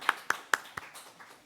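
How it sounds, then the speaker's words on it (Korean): A handful of sharp, separate claps ring out in a church during a Sunday worship service, spaced evenly at first and then trailing off into softer, scattered patter. "우리 축복의 박수 하겠습니다."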